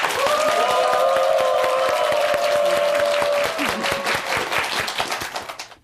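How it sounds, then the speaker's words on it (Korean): An audience bursts into sustained applause as a lecturer is welcomed to the stage, with dense, steady clapping that thins out and fades over the last couple of seconds; a faint sustained tone runs under the first half. "이수련 씨의 강의를 박수로 청합니다"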